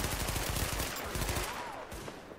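Rapid bursts of gunfire from The Division, played on Xbox One, crackle through a dense, continuous in-game soundscape, sharp shots clustering in quick volleys over a steady background.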